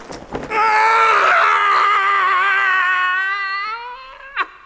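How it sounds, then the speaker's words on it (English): A man lets out a long, loud, sustained scream of horror on waking in the morning, a steady wailing cry of several seconds that fades slightly and ends in a brief catch. "The regular early morning yell of horror"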